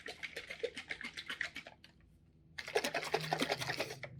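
Jar of crystal pottery glaze shaken vigorously, a rapid rattling swish in two bursts separated by a brief pause, close and fairly loud.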